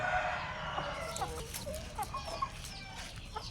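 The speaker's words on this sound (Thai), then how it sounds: "เราจะเห็นไก่ตัวสีขาว" A white chicken in a row of rooster pens clucks nearby at moderate level, with other fowl calling faintly in the background and no talk.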